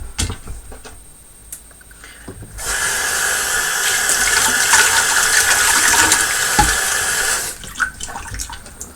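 A green canister from an Eheim 2213 aquarium filter is rinsed under running water, a loud steady gush lasting about five seconds, framed by quieter clunks and handling noises before and after.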